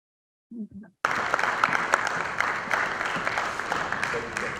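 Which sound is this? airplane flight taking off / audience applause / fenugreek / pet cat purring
audience applause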